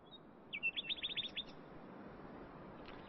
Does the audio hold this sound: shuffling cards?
no